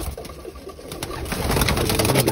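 Birmingham Roller flying pigeons cooing in a loft, soft repeated low coos layered over a steady background of bird activity that grows slightly busier toward the end, with no talking.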